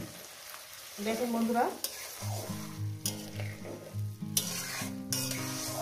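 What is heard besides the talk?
spice bowl rinse water added to hot fish curry pan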